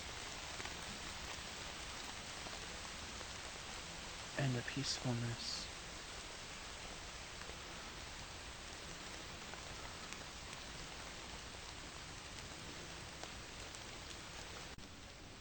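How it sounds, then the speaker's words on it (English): Steady rain falls among forest trees, a dense and continuous hiss of drops on leaves that stays even throughout, with a brief burst of nearby handling noise and someone speaking softly once. "Just listen to the rain."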